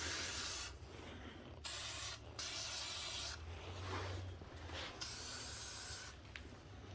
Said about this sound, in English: Lubricate the wheels up so they don't get stuck on there in case we ever have to change them in the future.